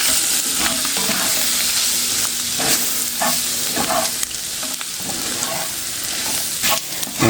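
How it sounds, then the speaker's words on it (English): Crumbled sausage coated in flour fries in a pan for gravy, a steady loud sizzle under repeated scraping stirs of the spoon, with no voices. "get all your flour combined and let it cook"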